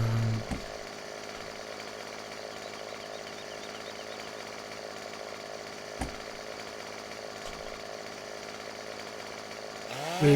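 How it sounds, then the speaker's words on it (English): A chainsaw in Farming Simulator 17 cuts trees with a steady droning whine that holds for about ten seconds, broken by a couple of sharp clunks, heard loud and alone. "I'm going to cut these using this chainsaw."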